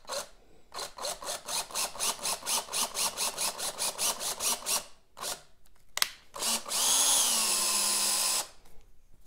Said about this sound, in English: And then you just drill it